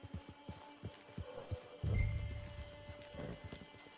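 Hooves of a horse in the Red Dead Online video game, a soft rhythmic clip-clop of steady footfalls with a brief louder rumble midway, heard faintly and alone.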